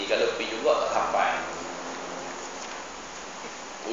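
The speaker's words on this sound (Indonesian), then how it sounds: "Hujan lebat sana." Heavy rain pours down in a steady, dense wash of noise, with brief bursts of indistinct talk near the start before the downpour continues on its own.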